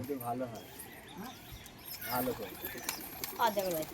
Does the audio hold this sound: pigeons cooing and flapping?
yes